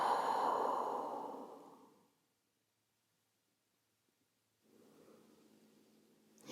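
A long, audible exhale through the nose or mouth during a yoga child's pose fades away over about two seconds, then silence follows before a softer breath and a faint rustle.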